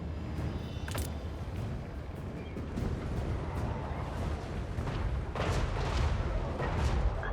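Dwarf cannons firing in the fantasy battle game Total War Warhammer 3, repeated booming shots and blasts scattered irregularly across a dense battle din, loud and continuous.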